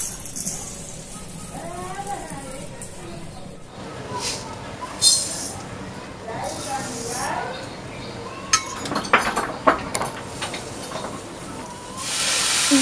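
A wok set down on a lit home stove and sugar poured in for rasmalai syrup, with scattered metallic clinks and rattles, a soft hiss and a person talking throughout.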